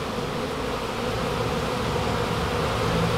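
A thick, continuous hum of many bees around a hive rescued from ants and termites, steady and close, growing slightly louder toward the end, with no talking.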